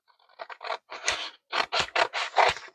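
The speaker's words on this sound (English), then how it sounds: "I'm just going to go ahead and cut straight across" Scissors snip straight across the cut lines of a paper pattern for a witch-themed wood sign, a quick series of short, crisp cutting bursts close up, with no voices.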